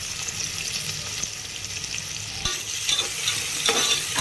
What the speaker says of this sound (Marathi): कांदा चांगला लाल होईपर्यंत परतून घेतले